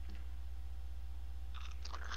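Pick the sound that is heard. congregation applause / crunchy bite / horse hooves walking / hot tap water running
crunchy bite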